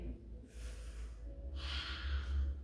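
Slow, close breathing: a soft inhale followed by a longer, airy exhale, faint and intimate against a low background hum.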